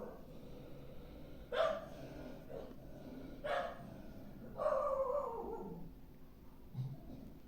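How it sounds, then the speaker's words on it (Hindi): A dog barks several times at a distance, muffled as if outdoors, with a longer drawn-out bark and a low steady background hum. "बाहर एक डॉग है जिसका नाम बेला है। ओके, डॉगी है, उसका नाम बेला है, वही भौंक रही है।"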